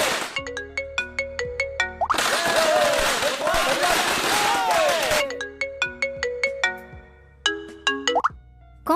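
A phone ringtone plays a repeating chime melody, interrupted midway by a burst of loud noisy commotion, then the ringing resumes.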